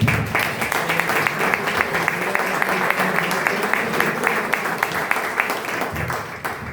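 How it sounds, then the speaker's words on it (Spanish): Audience applause at a presentation of a children's book: steady, even clapping from a sizable crowd, loud and continuous throughout, tapering slightly at the close. "le damos otro aplauso que siempre se está bien"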